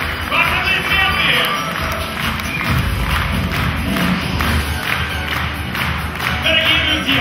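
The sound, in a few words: audience applause at a concert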